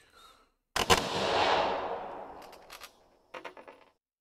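Heavy machine gun fire in the wargame Second Front, with a sharp opening burst followed by a long decaying roar, then a few scattered shots and a short final volley, loud and without talk.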